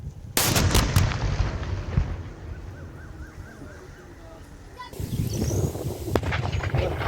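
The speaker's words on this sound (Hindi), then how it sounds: "दूसरा धमाका आप देख पा रहे हैं, ये तीसरा धमाका और एक के बाद एक धमाकों की आवाज।" Controlled detonation of unexploded Pakistani mortar shells by army troops in Akhnoor, Jammu: a loud boom, then further blasts rumbling at a distance, with a later sharp report, under a reporter's voice.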